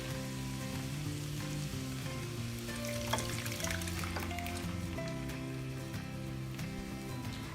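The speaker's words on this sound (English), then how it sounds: "And now I'm gonna add the sauce" Sauce poured into a one-pan sausage pasta sizzles steadily, a continuous close frying hiss with light stirring clinks, no voices, while background music plays throughout.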